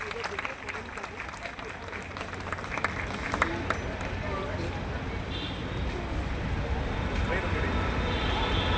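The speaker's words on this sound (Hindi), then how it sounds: "करताल ध्वनि से तालियां बजाकर उनका स्वागत और अभिनंदन करेंगे" Steady applause from a crowd welcoming a guest at a factory event, a continuous dense patter of clapping that holds evenly throughout at moderate loudness.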